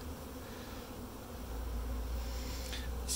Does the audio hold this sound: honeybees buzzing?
yes